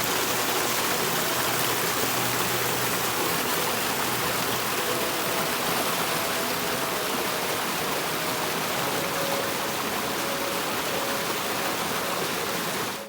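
A garden waterfall rushes steadily in frosty weather, a dense, continuous broadband splash held close and loud throughout with no voices.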